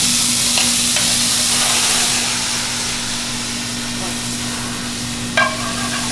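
Garlic and ginger paste fries in hot oil in a pan, a steady loud sizzle that eases slightly after a couple of seconds, with a brief scrape of stirring near the end.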